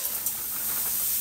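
Onions and peppers from a 567-gram frozen pepper-and-onion blend sizzle in a hot pan, a steady close hiss of sauteing with no talk over it.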